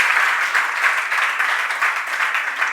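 An audience at a Jain monk's discourse in Delhi claps vigorously, a brief, dense and even round of applause close and loud throughout.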